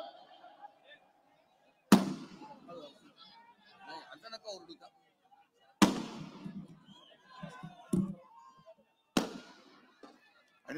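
Firecrackers burst at a large Shiv Sena political rally in Nashik, four sharp, loud bangs spaced a few seconds apart, with crowd chatter and voices filling the gaps between them.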